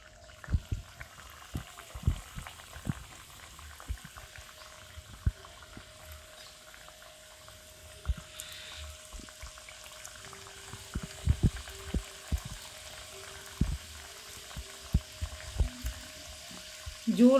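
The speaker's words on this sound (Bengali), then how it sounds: "এবার আমি এক এক করে তেলে ছেড়ে দেব।" Spinach singaras dropped one at a time into hot oil, frying with a steady low bubbling and sizzle, with soft clicks and taps of handling throughout and a louder clatter at the very end.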